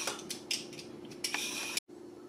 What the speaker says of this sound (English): First, we have to peel the cucumber.